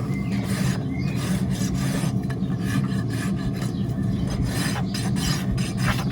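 A farrier's rasp filing the edge of a horse's hoof, a close, steady, coarse scraping with repeated rough strokes running continuously and loud, with no talk over it.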